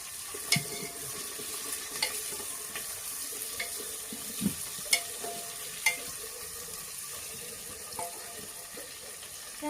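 Potatoes fry in a pan at a quiet, steady simmering hiss while a spoon stirs them, with soft scraping and occasional light clinks spaced every second or so.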